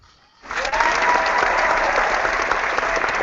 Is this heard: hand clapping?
yes